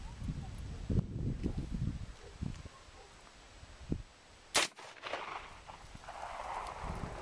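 A .44 Magnum revolver fires a single sharp, loud shot at a bullseye target outdoors, with people talking before and after the blast.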